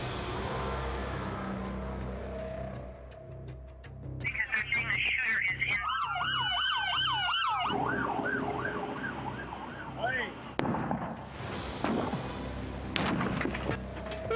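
Police sirens wail and yelp over American city street traffic, rising and falling in pitch, with several overlapping sirens loud and close before fading.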